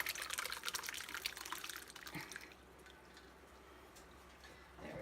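Whey pouring through a strainer while making queso fresco, a close liquid trickle and drip that is strongest in the first couple of seconds, then thins to a faint patter before a brief splash at the end.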